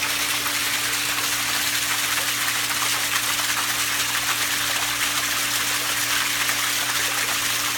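A pool filter in rinse mode sends water gushing through the pump, a loud steady rushing hiss over a constant low mechanical hum, unbroken throughout, with no talk.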